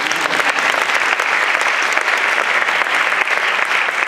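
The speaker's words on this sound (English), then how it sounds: "do you want to do the clapping first?" An audience fills a lecture hall with sustained applause after a talk on English futures. The dense, steady clapping carries on without pause for several seconds.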